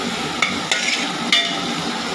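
Onion frying in a pan before tomatoes go in, a steady close sizzle broken by a few sharp scraping stirs of a spoon.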